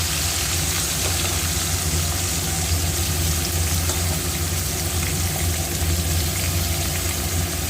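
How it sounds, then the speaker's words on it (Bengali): Sliced onions and bay leaves fry in hot oil, giving a steady, dense sizzle that stays even and close throughout with no pauses. "এই তেলে আমি দিয়ে দেব তেজপাতা এবং এখানে পেঁয়াজ করে যে রাখা আছে আমি পেঁয়াজ কুচোটা দিয়ে দেব"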